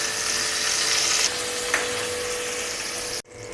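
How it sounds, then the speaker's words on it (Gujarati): Curry leaves and dried red chilli sizzling in hot oil for a coconut chutney tempering, a loud, steady close hiss that cuts off abruptly near the end. "મીઠા લીમડાના પાન, લાલ સૂકું મરચું આપણે વઘારને એડ કરી દેશું।"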